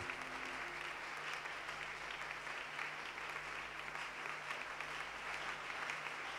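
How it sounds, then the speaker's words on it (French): Church congregation applauding together, a steady, even wash of many hands clapping at moderate distance, continuing without pause from start to finish. "Merci de l'acclamer."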